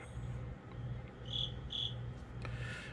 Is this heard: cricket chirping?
yes